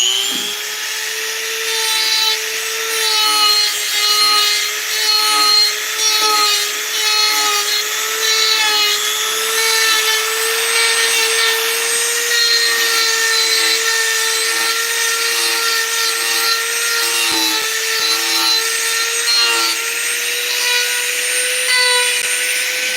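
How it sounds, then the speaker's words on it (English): A Dremel rotary tool grinds a wooden dresser knob with a continuous high-pitched whine, its tone wavering slightly as it bites into the wood. The sound stays loud and close throughout. "One more side to hit with the Dremel here."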